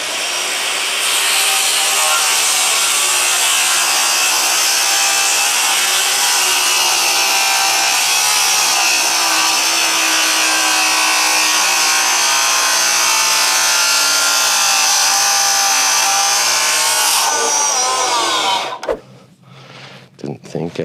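A saw fitted with a thin Diablo blade cuts through hardwood slab for a river table, a loud steady rasping whine that runs continuously for most of the stretch, then stops abruptly near the end.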